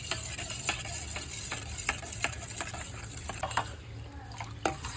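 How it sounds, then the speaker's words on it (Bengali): Milk is stirred into hot water in a pot for payesh, a rice pudding, with a spoon clinking against the side in an uneven rhythm over a soft, constant background. "তো এই যে আমল দুধ দিয়ে দিচ্ছি, এবার গুলিয়ে নিচ্ছে বৌমা।"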